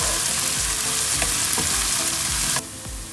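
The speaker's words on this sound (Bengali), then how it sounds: "পেঁয়াজটা আমি অনেকক্ষণ ভাজলাম" Chopped onion frying in a pan for a quail curry, a steady loud sizzle with soft stirring scrapes at regular intervals, dropping suddenly quieter near the end.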